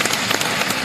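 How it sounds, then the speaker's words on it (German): Audience applause at a German TV show, a short burst of dense, steady clapping from a crowd, loud and continuous across the whole moment with no voices. "Das ist euer Applaus."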